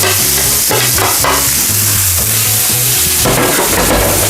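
Sliced cucumber dropped into melted butter in a hot pan, giving a loud, close, continuous sizzle with bursts of crackling and a few stirring scrapes, no voices.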